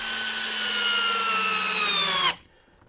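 A power drill in drill mode whines loudly at high speed for about two seconds while fitting anchors for LED light panels, its pitch rising slightly, then stops abruptly into quiet.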